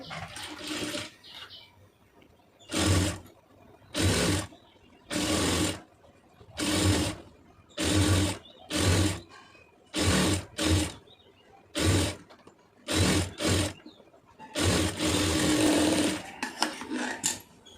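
An electric sewing machine stitches a neck design on a soft silk saree in repeated bursts of rapid whirring, each lasting about a second and separated by short pauses, close and fairly loud with no talking.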